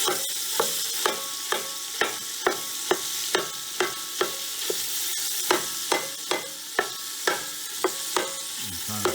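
Ground beef for chili sizzles and browns in a pan, a steady frying hiss punctuated by regular, sharp scraping taps of a utensil chopping and stirring the meat, around two strokes per second.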